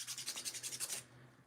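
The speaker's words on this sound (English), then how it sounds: "she needs a little bit of sanding on the palm area" A Bild Lilli doll's palm is hand-sanded in about nine quick, rhythmic scratchy strokes up close, then the rubbing stops and fades to near silence.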